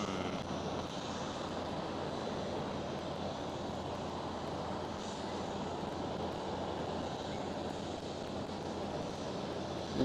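A China Southern Cargo Boeing 777 freighter at Amsterdam Schiphol gives a steady, broad jet-engine roar that holds at the same loudness for the whole stretch, fairly distant, with no talk over it.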